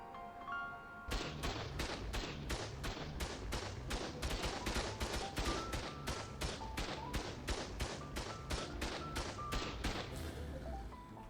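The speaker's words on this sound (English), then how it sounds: "I'm getting shredded by those heavy turrets." Heavy turrets firing in ARK, a long run of evenly spaced, sharp, loud shots with roughly two blasts per second, continuing steadily for about ten seconds after a brief quiet lead-in.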